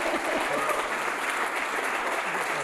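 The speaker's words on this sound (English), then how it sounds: "everyone needs to give a really big round of applause right about now." Wedding guests at a ceremony break into a loud, dense round of applause. It is close and continuous throughout, with faint voices mixed in beneath it.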